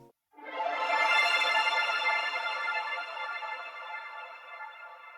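A sustained synth pad swells in softly and holds a bright, shimmering chord, slowly fading with a reverberant tail, played alone.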